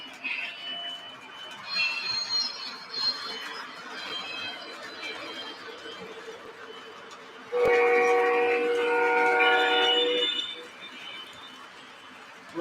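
A model toy train with Proto Sound 2 runs on track, its rolling rumble and rail clatter steady, with chuffing and a loud multi-tone whistle blast for about three seconds partway through.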